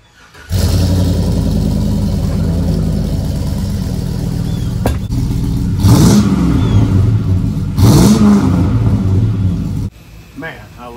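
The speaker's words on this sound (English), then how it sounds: "Man, I love that Dynamax muffler." A vehicle engine with a Dynamax muffler runs loud and close, a steady throaty rumble broken by two sharp revs of the throttle before it cuts off abruptly.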